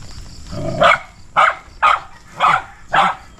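Dogs bark in five sharp, evenly spaced yaps at close range, each a short bright burst separated by quiet gaps.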